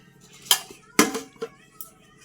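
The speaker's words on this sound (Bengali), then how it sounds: "এখানে দেখতেই পাচ্ছ আমি ভাত বাড়ছি" Several sharp clinks of a metal spoon against a plate while serving rice, with soft scraping between strikes, close by and fairly quiet.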